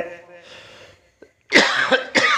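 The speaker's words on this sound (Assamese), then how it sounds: "আজি কাহটো অলপ দিগদাৰ কৰিছে" Harsh coughing and throat clearing from a man during a devotional kirtan recitation and commentary: a soft murmur, a short pause, then three loud bursts close to the microphone.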